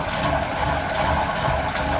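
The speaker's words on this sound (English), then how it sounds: "the fan's going. It pulls me off." A stationary exercise bike's built-in fan running: a steady, close whirring drone with a faint rhythmic pulse from the turning flywheel, continuous and fairly loud, with no talking.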